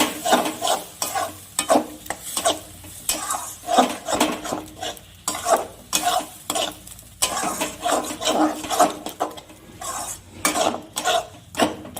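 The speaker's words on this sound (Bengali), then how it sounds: "এখন পালং শাক বাটাটা দিয়ে দেব। দিয়ে মশলার সঙ্গে ভালো করে কষিয়ে নেব।" Ground spinach paste stir-fried with cooked spice masala in a pan: rhythmic scraping strokes of a spatula against the pan, repeated roughly every half second, over a soft sizzle, close and moderately loud with no talking.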